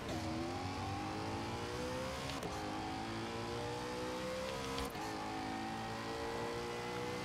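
A Koenigsegg Agera RS in Forza Horizon 4 races flat out at top speed, its engine a loud, sustained high-pitched drone that climbs steadily, broken by two brief shift blips, with no talking.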